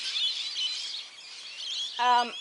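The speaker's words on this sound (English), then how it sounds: "Lots of parrots around today." Parrots calling in a home garden nursery, a steady wash of distant chattering squawks and chirps, a clearer nearby call at the end.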